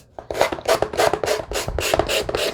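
Repeated rhythmic rasping strokes of a multi-surface sanding block rubbed back and forth over paint on a handmade junk journal book, about eight even passes, close and fairly loud with no talking.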